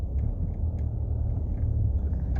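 Car rolling slowly toward a parking spot, a steady low engine and road rumble filling the whole stretch with no talk over it.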